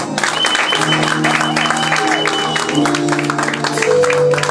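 A church congregation applauds and cheers loudly to welcome the pastor to the pulpit, a dense, continuous roar of clapping and voices with music or singing woven through it.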